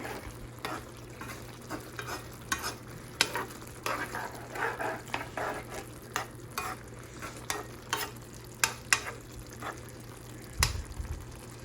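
Dried loitta fish curry is stirred in a pan with a little gravy added, giving a faint bubbling sizzle punctuated by frequent clicking, scraping spoon strokes at an uneven rhythm.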